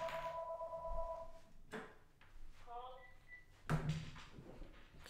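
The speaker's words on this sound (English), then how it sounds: "My damn phone is ringing." A phone rings in two short bursts of repeating electronic tones, with a soft knock and faint indoor rustle between and speech-like noise at the end.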